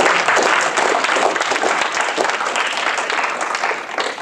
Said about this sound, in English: let's give Mr. Lee a round of applause.